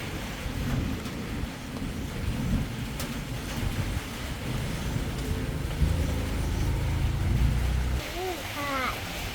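Steady rain hisses over a low, rolling rumble of thunder and wind outdoors, while people speak Thai over the storm.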